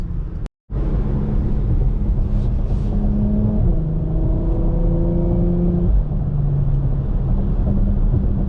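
2017 Porsche Macan GTS SUV accelerating hard, a sustained loud engine drone with rising tones through several gear pulls, heard from inside without talk.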